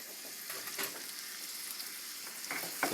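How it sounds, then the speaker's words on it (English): Organic ground beef frying in a hot pan as taco or sauce meat, giving a steady close sizzle with brief louder crackles and spatters. "Look at the sizzle."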